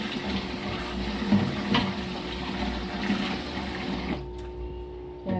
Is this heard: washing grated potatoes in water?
yes